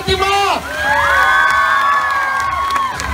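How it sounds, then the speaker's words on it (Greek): Crowd at a treasure hunt event in Kalambaka cheering and whooping, children's high shouts and rising cheers filling a short, loud burst. "Πάμε ένα χειροκρότημα!"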